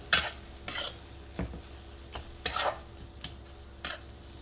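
Ground peanuts being stirred into a pan of Maharashtrian-style fenugreek (methi) sabzi, heard as a series of separate scraping strokes roughly every half to one second, close and moderately loud, with no voices.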